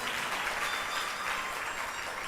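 Steady, dense applause from a large audience at a religious katha gathering in Hyderabad, continuous clapping at an even level throughout without any talk over it.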